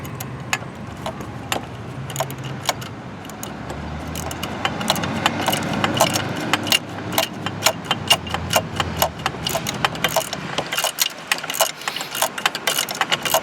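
A socket wrench secures a catch can in the engine bay of a 2012 Volkswagen GTI, giving off a quick run of sharp ratcheting clicks that grows faster and louder toward the end, close by and without speech.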